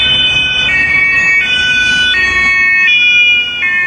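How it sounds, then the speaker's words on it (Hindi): A German police vehicle's two-tone siren alternates steadily between a high and a low pitch, loud and continuous over a low rumble of road traffic. "दूसरे ममालिक की पुलिस गाड़ियां और इसमें इस्तेमाल होने वाले सायरन"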